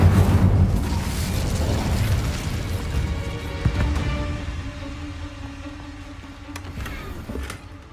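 Incendio fire spell cast in Hogwarts Legacy, a deep booming burst of flame that hits hard at the start and fades into a rumbling tail with a few smaller crackles and pops.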